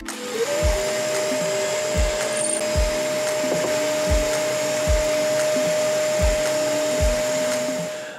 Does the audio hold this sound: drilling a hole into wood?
yes